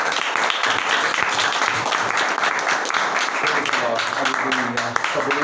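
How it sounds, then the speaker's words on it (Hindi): Seminary audience clapping during a sermon session, continuous dense applause throughout, with a voice speaking over it in the latter half. "अकाल के लिए तालियां बजाएंगे।"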